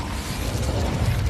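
The Incendio fire spell is cast in Hogwarts Legacy: a loud, dense whooshing burst with a deep rumbling low end and crackling, sustained through the whole moment.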